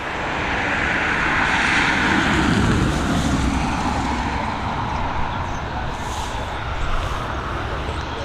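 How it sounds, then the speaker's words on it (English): A Boeing 737 jet airliner passes over Dublin Airport with a broad, roaring engine rumble that swells and then eases slightly while staying loud and continuous. "next up we've got this Boeing 737 heading over to Copenhagen"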